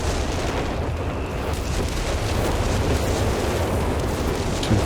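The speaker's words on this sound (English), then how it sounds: "Oops, the zeroing artillery down here, I guess." Dense, rumbling artillery bombardment in Company of Heroes 3 during a 2v2 match, with a continuous loud barrage of booms and blasts blending into a roaring wash.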